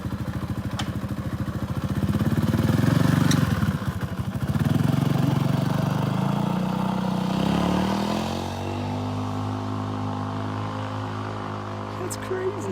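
A Suzuki S40 motorcycle engine runs steadily near the mic with a low, throbbing idle that dips and shifts partway through, while people talk over it.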